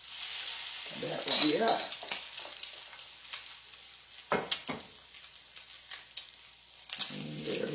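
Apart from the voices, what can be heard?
salmon patties frying in a pan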